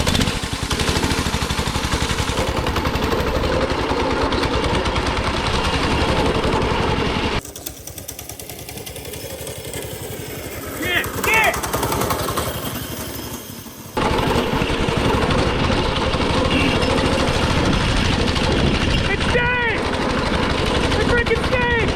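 A homemade go-kart's small engine fires up after a pull start and runs loud and close, a rapid rattling putter that briefly drops in level mid-run before roaring back, with excited voices shouting over it.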